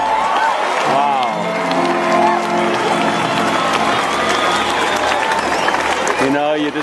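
A large crowd gathered around a popular street musician on a Friday night in Melbourne gives loud, steady applause and cheering, with whoops, music and nearby voices mixed in throughout.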